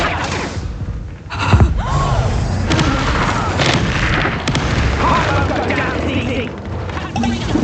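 A fire spell cast in Hogwarts Legacy bursts out as a booming, crackling blast amid a busy spell-combat soundscape. Overlapping effects and a spoken incantation run around it.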